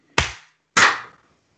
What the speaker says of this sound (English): Clap check.